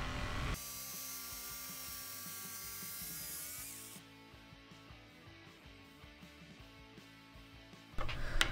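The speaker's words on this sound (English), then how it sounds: "I could just cut it out using the jigsaw and a metal cutting blade." Jigsaw with a metal cutting blade sawing through axe handle material: a loud, high buzzing cut for several seconds, then a quieter rattling motor hum, ending with a sudden louder burst of sawing.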